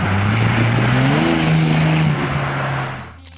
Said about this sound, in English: 1997 Mercury Cougar.